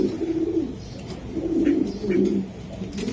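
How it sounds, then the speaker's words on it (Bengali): Racing pigeons cooing nearby in low, rolling bursts, three or four soft coos in a row against a steady background hum. "এই যে কবুতর"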